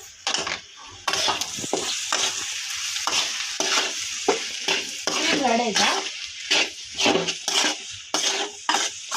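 A spoon scrapes and clinks in rhythmic strokes around a pan as chilli powder is stirred into a sizzling potato kurma curry, loud and close, with brief pauses between strokes.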